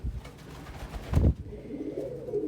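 A pet pigeon-type bird coos in a short, close series of soft throaty notes indoors, with a louder burst partway through.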